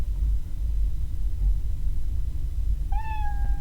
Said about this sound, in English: it's done with all those 9 times, it would meow